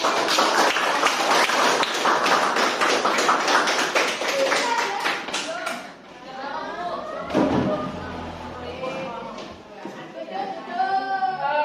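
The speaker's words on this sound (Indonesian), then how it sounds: "Kelompok 4 bisa kembali dan kita berikan tepuk tangan." Classroom students clap together for a returning group during a science lesson on the digestive system, with rapid dense clapping for about six seconds that thins out into children's voices and chatter.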